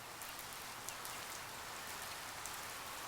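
Steady rain pours down without a break, a dense even hiss with scattered faint drop patters throughout, heard alone with no voices.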